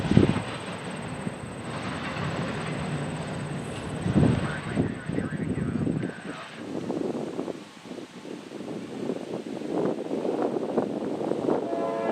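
A freight train rumbles past at a slow pace, with steady rolling clatter and creaking wheels, fairly close, and a voice speaking over part of it.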